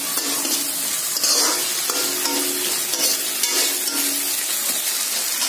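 Onion and green capsicum fry in a pan for veg Manchurian, giving a loud, continuous sizzle close by with steady stirring scrapes throughout.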